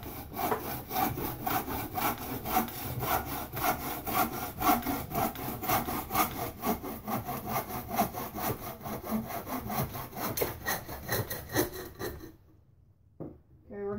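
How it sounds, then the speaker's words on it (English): A hand saw cuts through part of an old wooden door being shaped into a staff in a garage, fast rhythmic rasping strokes continuing for about twelve seconds before stopping, followed by a couple of faint knocks. "now I'm going to be sawing this part off because this thing is way too long."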